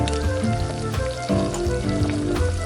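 Sliced potatoes and saba banana cooking in a pan of saucy chicken adobo with oyster sauce, giving a steady, close sizzle and bubbling frying noise that runs continuously with no talk.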